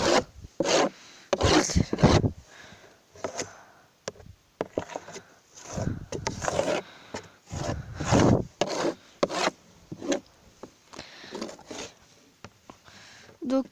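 Rough scraping and rubbing while a rabbit cage litter tray is cleaned, coming in loud, irregular bursts of varied length with short pauses between.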